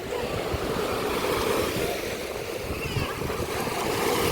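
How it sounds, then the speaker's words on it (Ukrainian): Rough summer sea at Odesa's Velykyi Fontan beach churns continuously, breaking surf and wash steady and close, with wind buffeting the microphone. "море сьогодні трішки бурхливе, але тепле"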